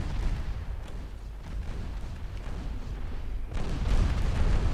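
Torpedo hits exploding against a ship in the naval video game Ultimate Admiral Dreadnoughts, a continuous low rumble of blasts with a heavier boom near the end.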